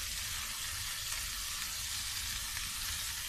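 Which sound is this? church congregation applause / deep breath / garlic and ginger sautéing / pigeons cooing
garlic and ginger sautéing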